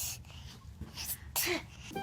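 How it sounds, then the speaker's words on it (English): Mother sneezing close by, a short sharp burst partway through, with soft sounds before and after. "Mommy sneezes. Hatcha! Hatcha!"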